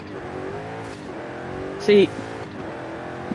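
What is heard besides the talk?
Fox Body car engine revving in a racing video game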